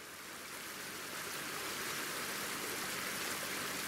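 A polluted river near a nickel mining area in Indonesia flows steadily, its continuous broadband rush of water holding constant and fairly loud for the whole few seconds, with no voices.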